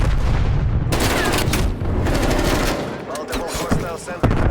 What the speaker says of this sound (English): Multiple hostile sentry turrets working your AO